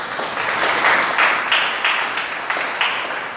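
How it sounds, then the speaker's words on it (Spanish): A church congregation applauds the vocalists after a sermon, a moderately loud round of clapping with rhythmic swells, as if people are clapping in time. "Un aplauso por las vocalistas."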